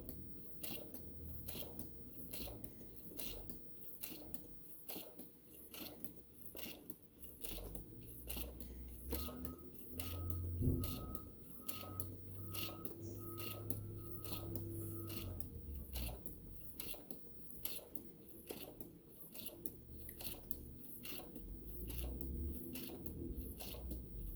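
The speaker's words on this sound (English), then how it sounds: "And now with my presser or my foot pedal, I'm continuing to stitch." A sewing machine, run by foot pedal, stitches through paper with a fast, even mechanical ticking that stays faint and steady throughout.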